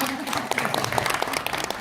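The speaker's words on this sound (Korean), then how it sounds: "박수 한번 더 주시기 바랍니다" At a year-end concert for a welfare group, an audience claps in a busy, uneven burst, with distinct individual claps and a voice talking over the noise.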